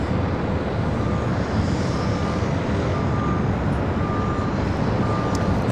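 An airliner bound for Paris lined up on the runway at Los Angeles International Airport, its jet engines giving a loud, steady roar heard from a distance with a faint repeating beep in the background, no talking.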